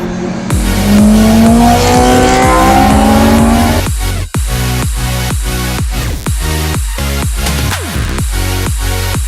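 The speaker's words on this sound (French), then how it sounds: "première session de la matinée avec la découverte de ce circuit de Jerez sur une moto" A motorcycle engine on Bridgestone Battlax S22 tyres screams close by at the Jerez circuit, rising through the revs, then snaps through quick gear changes in a rapid sputtering pattern as it races.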